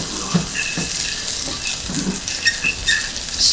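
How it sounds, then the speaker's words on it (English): Garlic fries in hot oil for Trini dhal, a continuous hissing sizzle with bursts of crackle and a few stirring knocks, close and fairly loud. "We're gonna add in the garlic."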